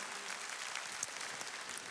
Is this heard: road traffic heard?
no